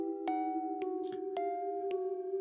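A doorbell sound effect rings as a sustained bright chime tone with repeated soft strikes at a steady pace, clear and close.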